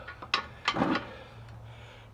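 A ratchet wrench snugs up the manifold bolts during a cylinder head install on a Cat 60 engine. A few quick, close clicks are followed by a low, steady background hum.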